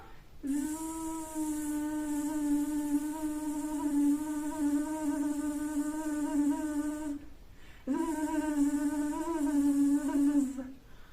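Two long, steady buzzing tones voiced by children imitating a fly, each held for several seconds with a short pause between them.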